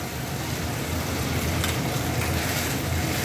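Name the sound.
sautéing spice paste with fennel, mustard seeds, cashew, curd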